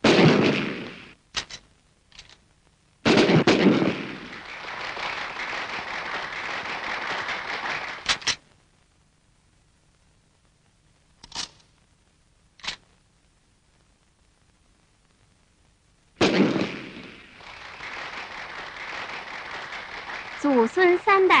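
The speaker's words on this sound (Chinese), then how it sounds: "全家民兵射击表演" Sharp gunshots ring out in bursts at a militia shooting demonstration, several quick cracks with silent gaps between them, while a loud surge of crowd noise or commentary comes and goes.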